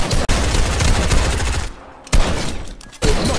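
Fortnite pistol fire: a loud run of rapid, overlapping shots, a brief lull, then two more loud bursts of shooting.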